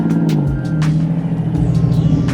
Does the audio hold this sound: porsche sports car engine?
yes